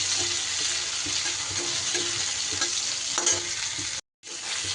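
Ginger and sliced tomato fry in a hot pan with a steady, close sizzling hiss. Soft stirring scrapes recur throughout, and the sizzle drops out in a brief gap before resuming.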